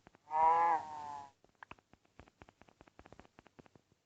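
A single low moo from a cow in Minecraft, followed by a scatter of small, quick tapping clicks.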